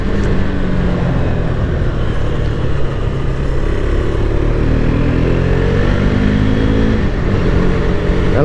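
A KTM RC 390 motorcycle, revs held low during its break-in period, accelerates with a loud, close, continuous engine drone that climbs in pitch through the gears.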